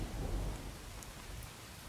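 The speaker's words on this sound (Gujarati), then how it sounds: "મેઘરાજાના ભુજરી અને લીંબોદરમાં પણ ધોધમાર વરસાદ વરસી રહ્યો છે" Heavy monsoon rain pours down in Aravalli district, Gujarat, a dense continuous wash of falling water with deep low rumbling underneath, steady and fairly faint, with no voices.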